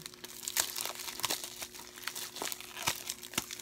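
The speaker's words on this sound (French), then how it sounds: "Je vais le déballer pour vous montrer à quoi ressemble l'intérieur." Plastic wrap being peeled and torn off a Blu-ray/DVD combo case, close crinkling with sharp irregular crackles and pops throughout, with no speech over it.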